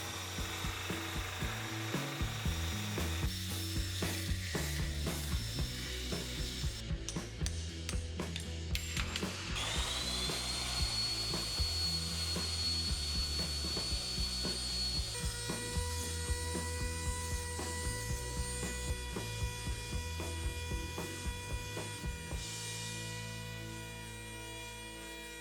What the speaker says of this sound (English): I figured out that I could kind of make a DIY lathe by sticking it on a drill